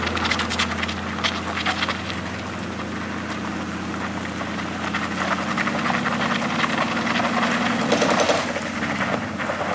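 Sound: Suzuki Carry engine revving up slippery incline

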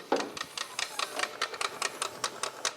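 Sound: throttle body clicking in VW Passat CC 1.8 petrol

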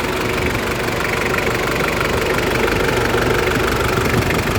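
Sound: engine of a used vehicle for sale running

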